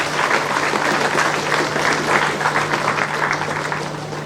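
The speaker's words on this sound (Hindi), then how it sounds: "हम तालियों के साथ स्वागत करें इनका मंच पर।" An audience at a golden jubilee function for a leprosy centre applauds steadily as guests are welcomed onto the stage. The clapping is dense and sustained for several seconds over a faint steady hum.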